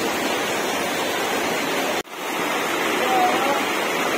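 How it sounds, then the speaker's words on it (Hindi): Floodwater surges through a street in Jaipur during heavy monsoon rain, a loud, continuous roaring rush like breaking surf that drops out for a moment midway before resuming. "नदी क्या समुद्र की लहरें आ रही है ना, ऐसे खतरनाक लहरें आ रही है"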